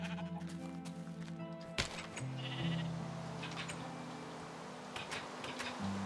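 Sheep in Minecraft let out several wavering bleats over a few seconds, mixed with faint clicks and soft game sounds.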